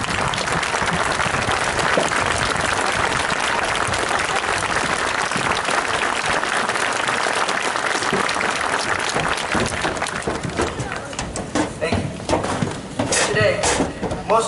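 A large crowd applauds at a high school graduation ceremony, with loud continuous clapping sustained for most of the stretch before thinning into scattered claps and murmuring voices near the end.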